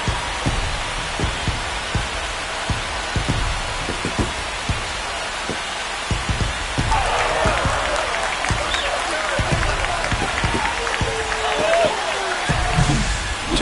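Stadium crowd in the baseball video game MLB The Show 25 after a home run, a dense clapping and cheering wash that grows louder partway through, with sharp thumps and a voice talking over it.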